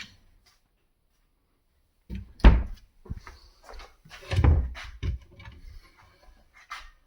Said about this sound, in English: And here we have the self-closing doors.